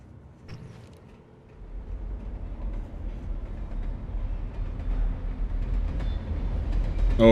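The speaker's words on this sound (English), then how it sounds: "Oh, it's just the train." A passing train in the video game Alan Wake Remastered: a low rumble that swells steadily from quiet to loud over several seconds, with metallic clatter building toward the end and no talking.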